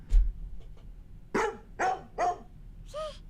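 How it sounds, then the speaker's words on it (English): A dog barks four or five times in short, separate yips and woofs, moderately close but fairly quiet, over a low background hum. "Hear the dog?"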